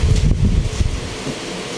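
Battery-powered mini fan, a small child's school fan, running close to the microphone with a steady breathy whoosh and low buffeting rumble throughout.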